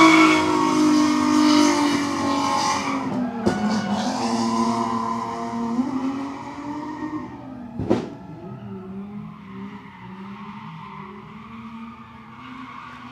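A Nissan G35 drift car revs hard and skids with tire squeal at a night drift event in Mexico, then spins out with a sharp loud burst before the engine fades to a lower drone.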